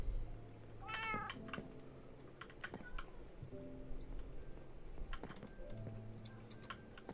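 Cats in Minecraft meow several times over the clatter of fast computer keyboard typing and clicking, the meows short and scattered across the clip.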